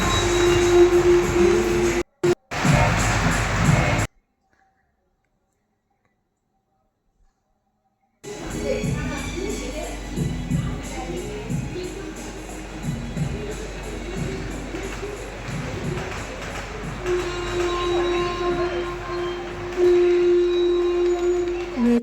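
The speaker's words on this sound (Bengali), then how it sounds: "ট্রেনগুলো পরপর আসছে আর দেখছে" Trains passing one after another, a continuous rumble and rattle of rail cars with wheel noise rising and falling, a short silent gap early on, and faint voices in the background.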